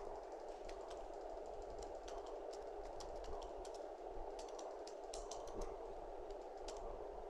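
Fingers tap quickly on a computer keyboard while typing a document in Word 2016, a soft, irregular patter of key clicks over a steady background hiss, with no one talking.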